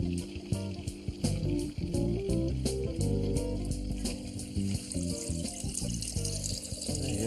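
Water runs from a garden downpipe through a diverter into a water butt, a steady trickling and splashing under prominent background music, with no speech.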